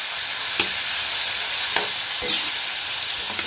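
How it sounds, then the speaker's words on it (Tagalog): Shrimp fry with browned garlic in a pan, a steady hiss of sizzling broken by a few light stirring clicks, close and without speech. "lagay na po natin yung ating hipon. At haluin po natin"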